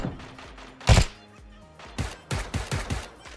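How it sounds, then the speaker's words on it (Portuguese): Gunfire in the battle royale video game Knives Out: one loud, close shot followed by a quick series of quieter, punchy shots. "Opa, tiro."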